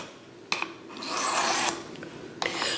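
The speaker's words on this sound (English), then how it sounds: "I'm going to work this for a couple of minutes on the 325 grit to create the edge that I want to create" A knife edge is worked on a 325 grit sharpening stone, giving rough rasping strokes with a long steady grind in the middle, close and fairly loud, with no talk.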